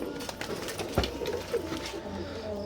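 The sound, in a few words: Teddy pigeons cooing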